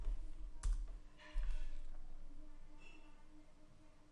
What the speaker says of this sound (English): or you can type the command